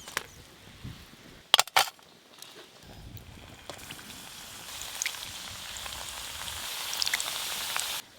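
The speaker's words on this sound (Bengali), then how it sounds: "এইগুলোও কিন্তু সুন্দর করে ভাজা হয়ে গেছে, আর দেখুন কীরকম ফুলছে।" Crispy khasta snacks deep-fry in oil with a steady, faint sizzling hiss. A few sharp pops come near the start, and the sound thickens toward the end with no talking.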